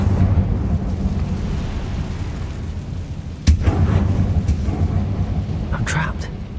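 Incendio fire spell cast in Hogwarts Legacy, a steady rumbling whoosh of flame with a sharp burst midway, followed by a brief crackling flare near the end.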